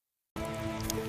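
Rain falls in a steady hiss that begins abruptly after a brief silence, even and moderately faint, with no voices.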